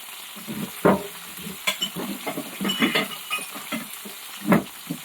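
Eggs sizzle and spatter in a hot pan as they are stirred, with scraping clinks of a utensil every second or so.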